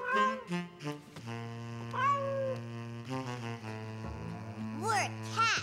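Animated cartoon children pretend to be cats, voices imitating meowing in a string of drawn-out, sliding meows over a sustained background tone, clear and close.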